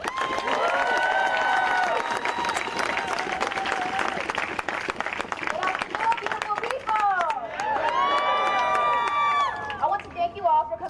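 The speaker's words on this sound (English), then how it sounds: "Give us another round of applause" Applause and cheering break out from a crowd at a racial justice protest rally, sustained clapping mixed with shouts and whoops, with voices talking through it.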